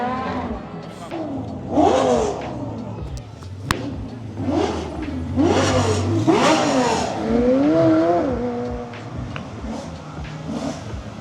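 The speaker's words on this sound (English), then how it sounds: "The 430 V8 is about to go. Ooh. Oh, Ferrari. Oh, he's gonna launch it." A Ferrari F430 with its V8 revs hard and launches at a car meet, giving several sharp rising engine surges with gear changes close by while onlookers talk and exclaim.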